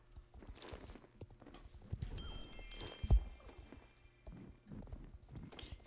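A horse being ridden in a video game gives a steady, quick clip-clop of hoofbeats, soft and continuous, with a faint whinny-like sound in the middle.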